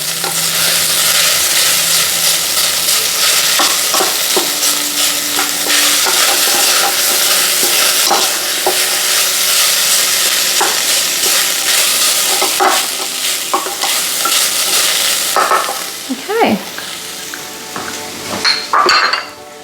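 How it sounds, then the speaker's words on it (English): Vegan bolognese sizzling in a single pot while being stirred, a loud steady frying hiss with utensil scrapes and clinks against the pot, close up and without talk, quieting near the end. "Just give it a bit of swirl around there to bring out the flavors."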